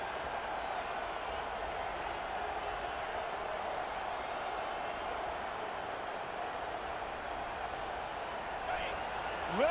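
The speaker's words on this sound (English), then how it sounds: "Listen to this crowd just shaking the girders of this place trying to help their defense." A large football stadium crowd in the video game EA Sports College Football 25 roars steadily in a dense, sustained wash of cheering noise, loud and unbroken throughout.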